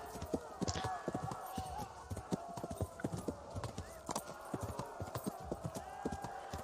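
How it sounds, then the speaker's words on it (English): Horse hooves clop in a steady trotting rhythm while riding in the medieval game Kingdom Come: Deliverance, crisp repeated footfalls with a brief whinny, moderately quiet and without talk. "The horse riding's a bit weird."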